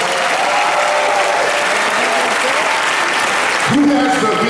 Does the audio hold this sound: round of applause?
yes